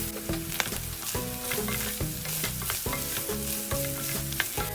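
Cauliflower and minced meat fry in a pan, giving a loud, continuous sizzle with dense crackling and frequent sharp pops from close by, with no talking.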